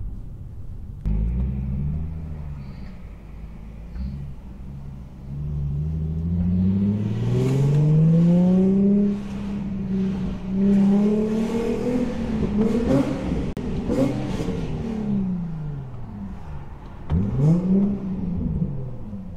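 An Infiniti G35 with stock headers, ISR test pipes and HKS axle-back exhaust revs hard as it accelerates, a deep rumbling exhaust rising and falling through several surges over nearly twenty seconds, loud and close.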